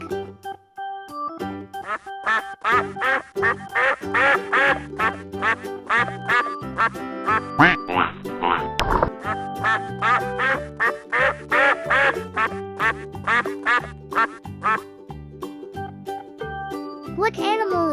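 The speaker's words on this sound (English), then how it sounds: "Yes, a duck says quack, quack." On a farm-animal lesson for toddlers, a duck quacks loudly in quick repeated bursts for most of the time, with a voice and light jingling mixed in.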